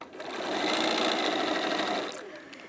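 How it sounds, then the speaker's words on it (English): Sewing machine with an open toe foot stitching a fabric seam for a bag, one continuous whirring run of about two seconds that swells and fades, close and clear. "I'm not skipping any stitches, it's just sewing beautifully"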